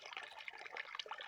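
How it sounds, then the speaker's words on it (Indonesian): Water flows at night inside a surau, a soft, close trickle with small splashing and dripping detail that carries on steadily on its own. "Suara air mengalir"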